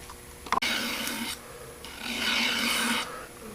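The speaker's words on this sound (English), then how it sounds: "One of the things that I'm doing when I draw the knife down the block" A kitchen knife is drawn down a sharpening block in rasping strokes. A short scrape comes first, then a sharp click, then two longer grinding passes, heard close with no talking.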